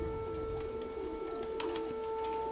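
Turtle doves coo softly above the roofs, a few faint calls and brief chirps over a steady hum and low background noise.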